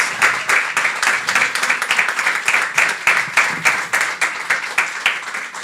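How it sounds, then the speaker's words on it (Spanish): Applause from an audience at a talk on cultural rights, heard as a steady run of distinct, fairly loud handclaps with a regular pulse that lasts the whole stretch, with no talking over it. "Un aplauso para..."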